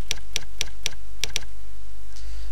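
Typing on a computer keyboard while entering school data into timetable software: six quick, close key clicks in an uneven rhythm, then quiet, with no voices.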